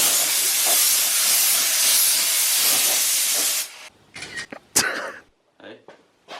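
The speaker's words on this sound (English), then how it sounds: "Just putting the last of the clear coat on" Clear coat paint sprays from an aerosol onto an R32 exhaust as a loud, steady hiss lasting several seconds, then cuts off, leaving brief bursts of nearby voices and handling noise.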